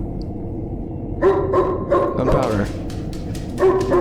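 Several short dog barks and yips from a dog in a video game, spaced through the clip under and between a player's speech.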